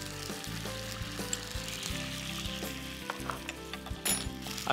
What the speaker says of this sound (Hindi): अब चीनी और विनेगर को थोड़ा सा रिड्यूस करेंगे।